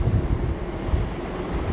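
Strong wind buffets the microphone at the port on Maui, a constant loud rumbling roar with no voices, alone for the whole short stretch.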